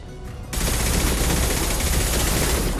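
Loud, continuous gunfire from Mass Effect 2 Legendary Edition fills the scene, a dense barrage of overlapping shots that starts after a half-second of quieter sound and keeps going without pause.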